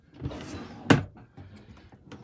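A cupboard door in a 1986 Weippert vintage caravan opens or closes with a sharp, close wooden knock, amid softer rustling and handling sounds and a smaller tap at the end.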